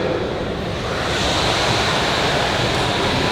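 A large audience at a convention Q&A imitates wind and ocean waves together, a loud steady rushing hiss from many voices sustained without pause.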